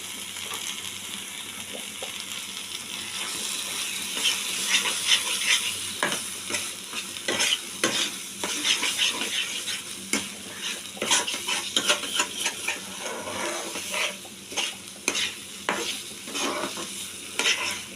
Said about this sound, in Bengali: এবার আমি আরেকটু তেল অ্যাড করে দিয়ে একটু নেড়ে নামিয়ে দেবো।